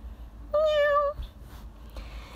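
A single clear meow from a cat, rising then falling in a short tonal cry of about half a second, heard close with quiet background afterward.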